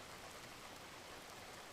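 Steady rain in an anime scene, a continuous hiss of falling water, even and unbroken, fairly quiet and with no voices over it.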